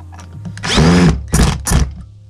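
A cordless power drill with an adjustable clutch drives a screw, giving a loud whirring run, then two shorter bursts as the clutch slips and ratchets. There is no talk.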